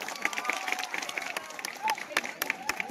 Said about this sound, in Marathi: सर्व प्रेक्षकांनी टाळ्या वाजवायचे.